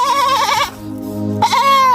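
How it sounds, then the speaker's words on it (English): A goat bleats loudly and close by in long wavering cries, one drawn-out call, a brief dip, then a second sustained bleat, heard alone without talking. "I said this goat is very strong."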